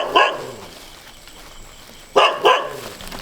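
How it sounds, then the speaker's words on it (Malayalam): A dog barks in two bursts, one near the start and a pair later on, loud and close, with quiet background between. It happens during a Christmas gift-giving visit to a home. "പട്ടി കടിക്കോ?"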